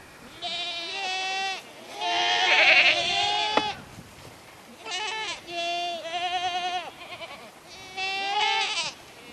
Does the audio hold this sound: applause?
no